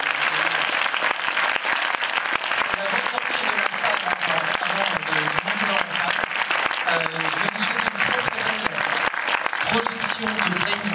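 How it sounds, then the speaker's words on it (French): Sustained, dense applause from an audience at an awards ceremony for an art challenge, filling the whole stretch at steady loudness while voices talk underneath. "il faut que tout le monde vous applaudisse très fort"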